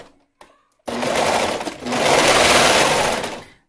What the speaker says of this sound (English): it is easier to baste on a sewing machine